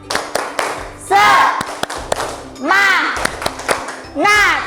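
A class claps in a quick rhythmic pattern of sharp hand slaps, alternating with children's voices chanting loudly together, in a primary school classroom.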